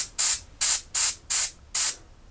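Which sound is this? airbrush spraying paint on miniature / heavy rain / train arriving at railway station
airbrush spraying paint on miniature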